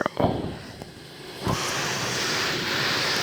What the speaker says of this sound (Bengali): প্রচুর পরিমাণ ঝড়ো বাতাস বইতেছে